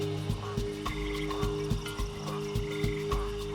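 Frogs croak in a Panamanian rainforest, a steady rhythmic series of short pulses repeating about every half second over a constant low droning chorus, with no voices.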